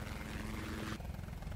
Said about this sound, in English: A chopper. Oh, that is a helicopter.